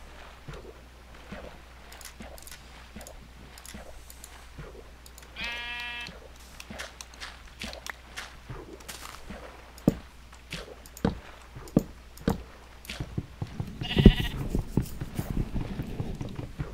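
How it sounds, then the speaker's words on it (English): In the Minecraft video game, a sheep bleats twice, with a wavering call in the middle and another near the end. Soft clicking footsteps and other game sounds are heard throughout. "Isn't that sheep annoying?"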